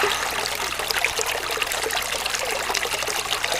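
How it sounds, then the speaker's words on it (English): Water trickles and sloshes steadily in a gold prospecting pan during a creek panning session in Gippsland, Australia, a close, continuous wet swirl with no voices. "Let's get our pan down and we'll see what the results are."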